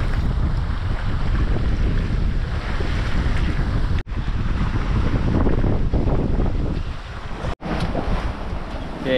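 A sailboat running alone across the open ocean toward Kauai on an overnight passage, heard as a steady, loud rush of wind buffeting the microphone over washing water, with two brief dropouts.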